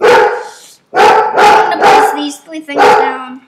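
A dog barks repeatedly indoors, faint and partly masked, under loud close speech that fills most of the clip.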